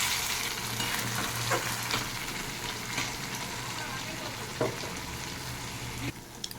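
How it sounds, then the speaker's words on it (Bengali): Poppy seed paste with a little sugar fries in a pan, giving a soft steady sizzle with occasional scraping stirs. A voice talks faintly underneath. "আমি নাড়াচাড়া দিই আমি নামিয়ে দেবো।"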